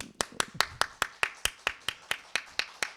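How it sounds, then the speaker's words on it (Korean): A church congregation claps in unison, about fourteen sharp, evenly spaced claps in quick steady rhythm, close and crisp, with no talking. "박수 50번."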